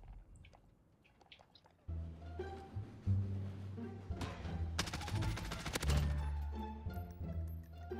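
Pistol gunfire from Modern Warfare, heard as a few separate shots starting faint and growing into a louder burst of rapid reports near the middle, over a steady low game rumble.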